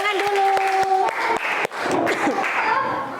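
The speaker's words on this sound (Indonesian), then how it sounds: "Tepuk tangan dulu." Brief applause from a classroom group, a short burst of clapping overlapping with voices and chatter.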